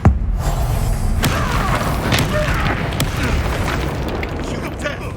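A Bombarda spell blasts with a loud booming explosion in Hogwarts Legacy, its heavy low rumble sustained over several seconds amid dense game effects and scattered bursts.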